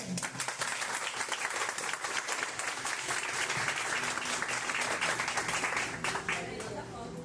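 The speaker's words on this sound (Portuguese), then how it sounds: "Aplaudam vocês mesmos, porque vocês merecem." A conference audience breaks into sustained applause, dense clapping that swells and holds for several seconds before thinning out, with a voice cutting in near the end.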